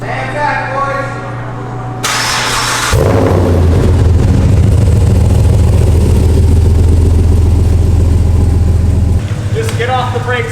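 Car engine cranks and fires up, then settles into a loud, steady, rumbling idle with revs, close by, as people talk over it.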